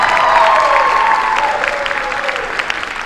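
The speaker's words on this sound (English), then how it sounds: "Another round of applause for Intermediate Band." A crowd claps steadily for an intermediate band at a school winter music concert, a warm wash of applause with a faint tone fading underneath, holding fairly loud for a few seconds.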